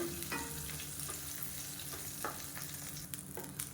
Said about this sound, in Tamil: இப்போ இதே எண்ணெயில் ஒரு சின்ன நெல்லிக்காய் சைஸுக்கு புளியை வந்து சேர்த்துக்கலாம் இதே இந்த எண்ணெயில் வதக்கி எடுத்துக்கலாம்